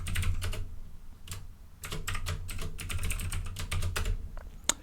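A computer keyboard clatters with quick bursts of keystrokes as a password is typed, close and clear, with short pauses between runs and a sharper final key tap.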